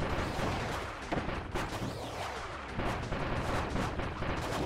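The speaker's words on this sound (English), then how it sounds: "We have to fight with the cannon below." A cannon fires repeatedly in the Kirby Star Allies game, giving a run of sharp booming blasts in quick irregular succession, loud and close, with no talking over them.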